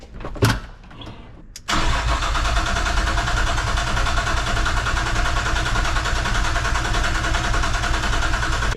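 Nissan C33 Laurel fitted with a turbocharged 25DE engine cranks briefly after a couple of clicks, then catches and settles into a loud, steady idle that runs on close by.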